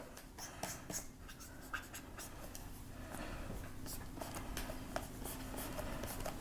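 A pen or pencil drawing on paper for an anatomy sketch of the torso, steady soft scratching strokes with brief pauses, close and faint.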